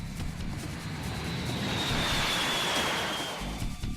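A large bomber aircraft flying overhead, a steady broad engine roar with a faint whining tone sliding across, swelling slightly and then easing off, with no voices.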